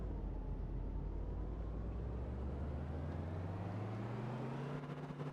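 A vehicle engine drones in the Stormworks game, a low steady rumble whose pitch rises smoothly as it accelerates through its gears, continuous and close with no voices.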